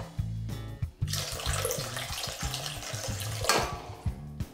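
Lukewarm water poured into a plastic Tupperware tub in a kitchen while making a quick yeasted sourdough-style loaf: a steady splashing trickle lasting a few seconds over a low background hum, close and fairly loud.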